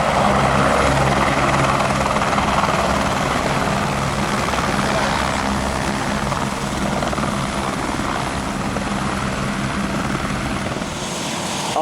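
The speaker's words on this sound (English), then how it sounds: "we're about to fly over Le Mans in a helicopter" A Gazelle helicopter drones loudly and continuously nearby, its rotor chop and engine roar steady throughout with no talking, flying over Le Mans.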